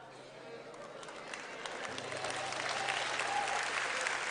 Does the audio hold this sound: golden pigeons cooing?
no